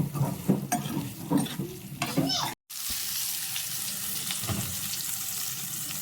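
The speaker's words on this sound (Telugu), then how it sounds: "ఇందులోనే కాకరకాయలు వేసుకొని నూనెలో బాగా వేయించుకోవాలి" Bitter gourd pieces fry and get stirred in oil with onions in a pan, a steady sizzle with scraping and clinking of a spoon, briefly cut off before the hiss resumes evenly.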